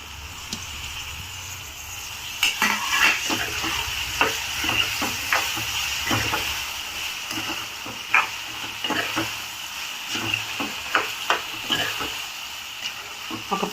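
Stirring and frying in a pan: tomato just added over ginger-garlic paste for a Telugu dosakaya (cucumber) pulusu, steady close sizzle with irregular scraping and tapping strokes of a spoon against the pan, no talking.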